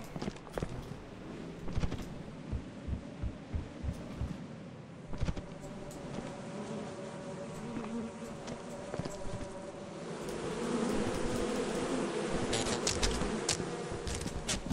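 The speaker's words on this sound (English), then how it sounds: "I heard those... I know those bees. I want them." Bees buzz near a hive in the video game Lethal Company, a steady insect drone under footsteps and scattered clatter. The buzz grows louder and denser in the last few seconds.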